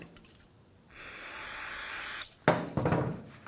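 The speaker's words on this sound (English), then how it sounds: "And take some brake parts cleaner." Brake parts cleaner sprays in one steady hiss of just over a second onto front brake slide pins of a 2011-15 Kia Sorento, followed by close rustling and clattering handling noises.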